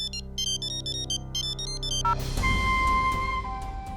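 A mobile phone ringtone plays a clear repeating electronic melody in short bursts, then breaks off into a jumbled tonal chime with background noise. It is fairly loud and close, with no talk.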